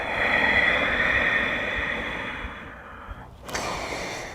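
A slow, long exhale during a yoga core and back posture exercise, a soft airy breath that gradually fades, followed by a short rustle.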